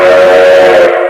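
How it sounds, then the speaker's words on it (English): A loud, sustained train whistle blows as a train approaches on the line to Hoboken, one steady tone lasting about a second before cutting off abruptly. "Here comes the train to Hoboken."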